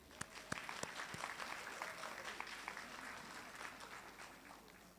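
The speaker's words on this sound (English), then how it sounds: "Give yourself a round of applause." A graduation audience at a community college ceremony applauds, a few sharp close claps ringing out at first before a steady, quieter crowd clapping that gradually tapers off over five seconds.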